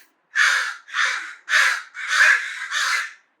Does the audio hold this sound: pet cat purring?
no